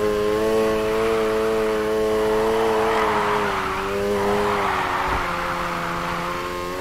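A car engine revs high and holds in Need for Speed Heat, with pitch rising and dipping through a drift alongside tire squeal, loud and up close without talk.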